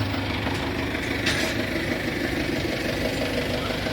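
A small tractor engine idles steadily nearby, a continuous low chugging rumble with no talking.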